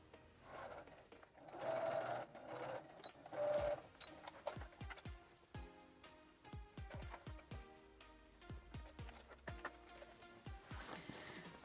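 Home sewing machine stitching the waistband and leg holes of fabric shorts, quiet bursts of whirring followed by a run of sharp rhythmic needle clicks and pauses.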